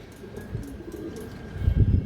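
A female pigeon coos softly nearby, a low throaty burble rising at the end, with faint background noise.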